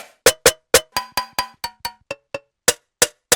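Randomized drum kit samples from a sample pack, all drawn from one sample, play a quick sequence of about fifteen sharp, bright, cowbell-like hits in an uneven rhythm, loud and close with no talk.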